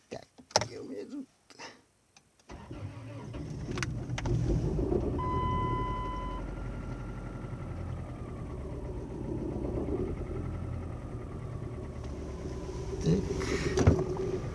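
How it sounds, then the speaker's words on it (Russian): Cold start of a car engine after sitting about 14 hours: a few clicks and a starter burst, then the engine catches and settles into a steady, uneven-sounding idle, rising slightly near the end, with brief speech early. "машина простояла примерно 14 часов. Холодный запуск."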